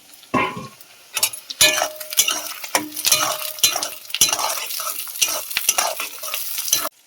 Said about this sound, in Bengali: এবার টমেটোটা দিয়ে ভালো করে ভেজে